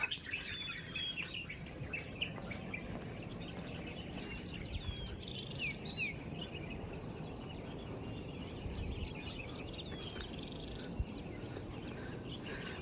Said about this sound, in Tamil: கேட்குதா மயில்ஸ் சத்துறது?